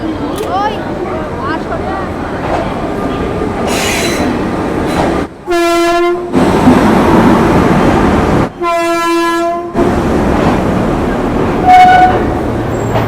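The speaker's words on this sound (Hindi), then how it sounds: "अपनी दुरंतो एक्सप्रेस आ गई है न्यू दिल्ली रेलवे स्टेशन के प्लेटफॉर्म नंबर 5 पर।" A Duronto Express hauled by a Howrah-shed WAP5 electric locomotive pulls into platform 5 at New Delhi railway station, giving two long, loud horn blasts over heavy rumbling wheels and station bustle.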